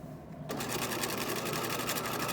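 A sewing machine stitching around a fabric zipper pouch starts up after a brief pause and runs in a fast, steady, close whirring rattle for the rest of the clip.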